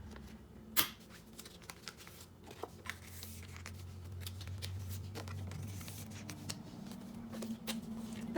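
J-pop photocards being slid and shuffled into a plastic binder, soft close rustling and sliding with a sharp snap near the start, quiet throughout.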